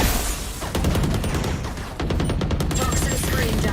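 Gunfire from the tactical shooter game Valorant during a pro esports match, with rapid, loud shots in quick repeated bursts and a caster talking over it.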